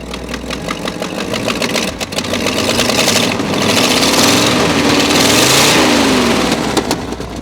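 An old Ford truck engine, abandoned for 39 years and with header leaks, runs loud and close with a rough, uneven idle that swells and settles as the throttle is worked.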